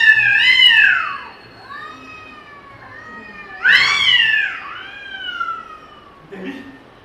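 Cats cry and meow loudly and close by in long, wailing, siren-like calls, two big howls with softer mews between them, followed by a short burst of speech at the end.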